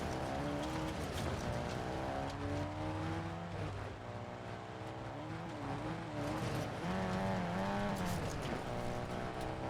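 A video game car roars along at high revs, its engine tone rising and falling steadily while the tires squeal through turns.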